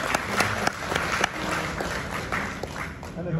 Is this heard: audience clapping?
yes